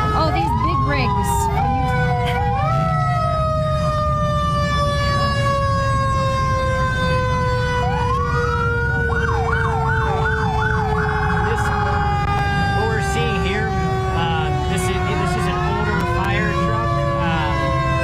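Fire truck sirens from rural fire department rigs in a town parade wail continuously, rising and falling loud and close, with several sirens overlapping, horn-like blasts and a steady rumble of engines beneath.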